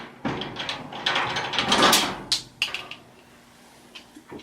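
Metal clinks and ratcheting taps from a wrench turning a 1/4 inch nut out of the metal back panel of a laundry dryer, a run of close, irregular mechanical clicks and scrapes that thins out toward the end.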